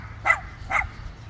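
Two short barks from a dog, about half a second apart, moderately near and fairly loud over a low steady background hum, with no talk.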